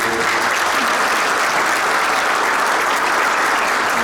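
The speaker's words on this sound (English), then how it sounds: "can we give a round of applause to those young ladies for that?" Sustained applause from an audience at a law enforcement training ceremony, a dense steady wash of clapping that holds at even loudness from start to finish with no voices on top.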